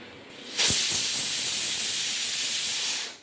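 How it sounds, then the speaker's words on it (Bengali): A pressure cooker of potatoes gives a long, loud steam-whistle hiss that starts suddenly and holds steady for over two seconds before cutting off, with no talk over it. "দেখুন আমার চারটে সিটি হয়ে গেছে এবার আমি এটাকে নামিয়ে ঠান্ডা করতে দেব"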